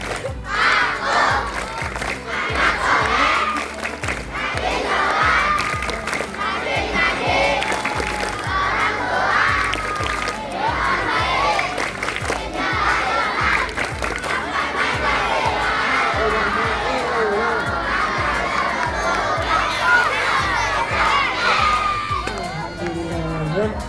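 At a school celebration of the Prophet's birthday, a crowd of children clap and chant loudly together in a rhythmic pattern, shouting and cheering in unison over steady, synchronized handclaps for the whole stretch.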